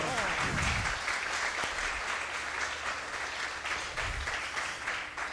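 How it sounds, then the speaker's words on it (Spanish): A church congregation applauds during a Spanish-language service, with loud, dense clapping that runs steadily through the whole stretch. Some voices and cheers mix in under the clapping. "Denle un aplauso al Señor."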